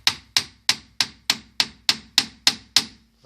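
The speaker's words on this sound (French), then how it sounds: "avec un marteau, vous tapotez, parce qu'elles seront coincées par la poussière" A hammer tapping the front brake caliper of a 2004 Renault Scénic 2, ten sharp metallic knocks in an even rhythm, close and loud, each ringing briefly before the next.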